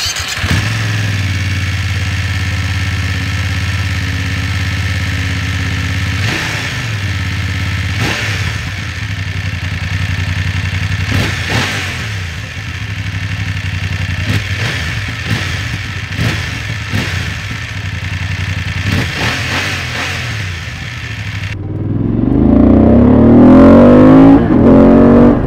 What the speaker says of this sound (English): It's still not sounding like a V2 engine, since it's an inline two-cylinder engine here.